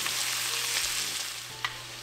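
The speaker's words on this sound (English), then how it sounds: "Now we're gonna add our shrimp. And we're gonna fry them for 1 minute." Shrimp frying in oil in a pot for a jambalaya, giving a close, steady, loud sizzle with a brief scrape or stir near the end and no talking.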